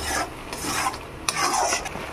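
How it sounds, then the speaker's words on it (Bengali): Spices for egg curry get stir-fried in oil in a pan, with a spatula rasping and scraping in repeated close strokes over a faint sizzle. "এবার মশলাটা কষিয়ে নেবো ভালো করে।"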